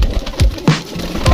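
Soft, low coos of a male Khal pigeon repeat a few times in a short burst, close by, with faint rustling in the background and no talking.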